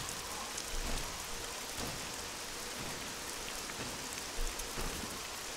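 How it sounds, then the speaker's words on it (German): Steady rain pouring in the survival video game SCUM, a dense even hiss of drops hitting surfaces, faint and continuous with a couple of soft low thumps. "Das regnet das gut nach 40 Minuten schon, ne?"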